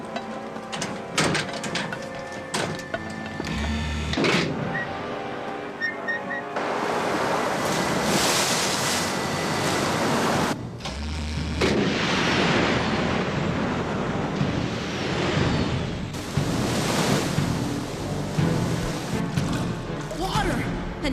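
Rushing water floods in, cartoon-style, as a loud, steady roar that swells and fills the scene for most of its length, with brief pauses and voices heard alongside.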